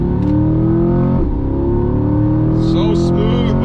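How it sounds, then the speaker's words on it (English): A car engine revs steadily under acceleration, a loud continuous exhaust drone that rises in pitch, with a short whine near the end. "So listen to that exhaust go."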